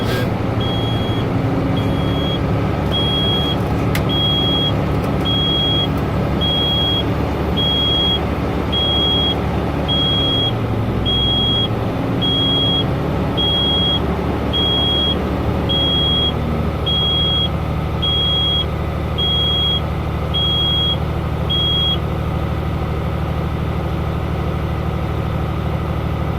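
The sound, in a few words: truck engine revving to build air brake pressure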